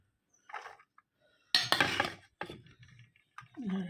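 Hot rice for a Bengali home meal is ladled from a pot onto a plate, heard as sparse scraping and clinking of the serving spoon, with a louder cluster of knocks midway and no talking.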